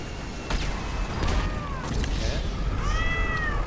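Female cat in heat meowing and yowling in short rising-and-falling calls, several in a row, heard against a steady background of game noise and voices.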